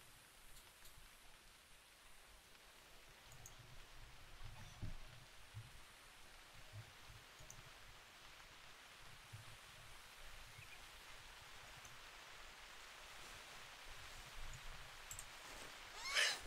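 Steady, soft rain hisses continuously in the video game theHunter Classic, a gentle wash of falling drops with faint low thumps underneath and no talking.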